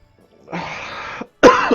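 Two separate coughs from a person, close and fairly loud, the first longer and rougher, the second a short sharp burst after a brief silence.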